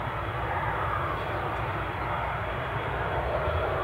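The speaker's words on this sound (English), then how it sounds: "Alibi, I've just got visual on that Embraer." Steady broadband roar of an Embraer jet's engines at Newcastle International Airport, continuous and moderately distant, with a low rumble underneath and no voices.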